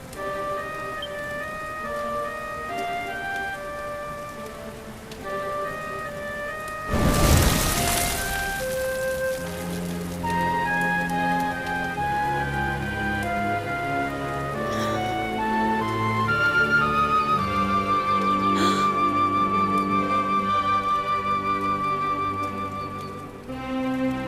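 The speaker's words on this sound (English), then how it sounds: "Looks like the rain's dying down." Rain in the video game Dragon Quest XI patters softly in the background beneath melodic game music, with a loud whooshing burst partway through.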